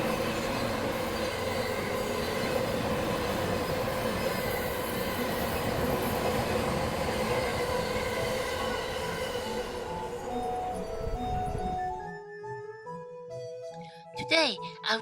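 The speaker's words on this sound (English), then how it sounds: "Here comes the Yamanote Line's train." A Yamanote Line train rumbles past loudly and steadily near Shibuya Station in Tokyo for most of the clip, then fades, leaving a quieter scene with brief tonal squeals and faint voices at the end.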